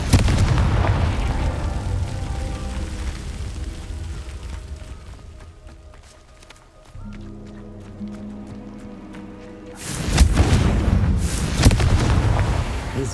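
A Confringo blasting spell detonates in Hogwarts Legacy: heavy booming explosions with roaring rumble, one burst opening and another loud blast several seconds later, trailing into rumbling decay.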